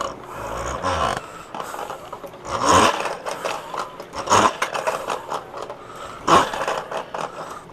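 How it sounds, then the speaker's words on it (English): A Playmates Star Trek 1930s-style toy vehicle's machine-gun mechanism rattles as it is driven along, a scratchy grinding clatter with a few louder bursts, close and fairly quiet, with no one speaking. "as you drive it along, it's supposed to sound like a machine gun"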